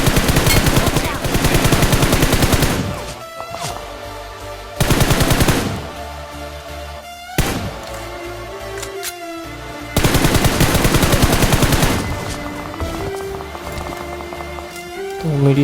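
Gunfire in PUBG on the Livik map: long, loud bursts of rapid automatic shots with pauses between them, while speech is heard in the gaps.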